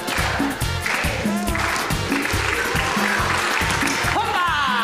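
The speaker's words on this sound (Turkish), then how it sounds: "Alkışlar." An audience on a Turkish talent show claps along in a steady, rhythmic beat, loud and continuous, with cheering mixed in over the clapping.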